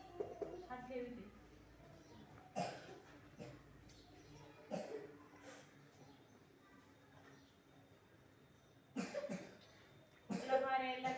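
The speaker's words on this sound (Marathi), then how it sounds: "खोकला फार यायला लागलाय" Children coughing in a school classroom, several short coughs scattered through the clip, some close and sharp, others fainter, with an adult and children talking quietly around them.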